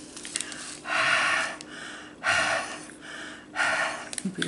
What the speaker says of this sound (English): breathing into them seems to work